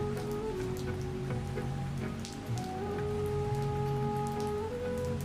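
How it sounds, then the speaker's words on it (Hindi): Heavy rain pours steadily in a cartoon story scene, a dense continuous hiss of drops with a sustained low tone running underneath and no voices. "बारिश और भी तेज हो गई।"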